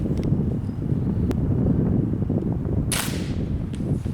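A Black Bunker BM8 folding break-barrel air rifle firing a 15.89-grain pellet outdoors in strong wind: one sharp crack partway through, then a brighter burst of noise later, all over a constant roar of wind buffeting the microphone.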